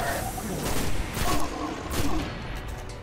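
Several sharp gun shots in the video game Destiny, spaced about half a second apart as separate bursts over a steady backdrop of game noise.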